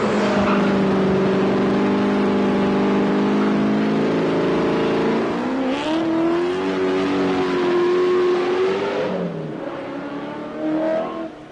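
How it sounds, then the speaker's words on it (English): A 1979 Rover SD1 car accelerating uphill with heavy wheel spin, a loud engine note rising in pitch through the gears, then fading as it pulls away. "Rover SD1 from 1979. When it takes off, you will not be able to hear me at all."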